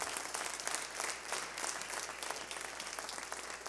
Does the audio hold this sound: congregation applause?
yes